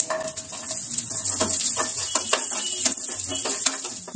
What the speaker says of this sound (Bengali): এবার আমি ধুয়ে রাখা কাজু আর কিশমিশ দিয়ে একটু ভেজে নেব।